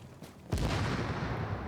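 Booming video-game explosions burst in abruptly after a quiet lead-in, settling into a dense, sustained rumbling barrage of blasts.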